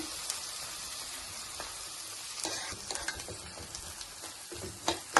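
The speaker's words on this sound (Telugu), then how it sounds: "ఇంకా కొంచెం ఒక పది నిమిషాలు వేయించుకున్నామంటే అయిపోద్ది" Chopped onions fry in a pan for a masala egg curry, a steady close sizzle with scattered pops and crackles that grow louder toward the end, with no voices.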